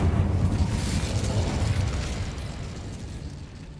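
An Incendio spell bursts into flame inside a closed mine in Hogwarts Legacy, a close, roaring explosive rush that slowly dies away.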